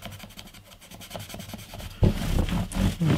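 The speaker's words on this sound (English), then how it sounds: "I'm just going to go over it with the 1200 grit again, with the oil on." Close rubbing strokes of 1200 grit sandpaper with oil on a guitar fretboard, a quick run of soft rasping passes that turns louder and denser halfway through.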